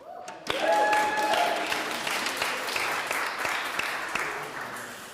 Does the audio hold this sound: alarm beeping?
no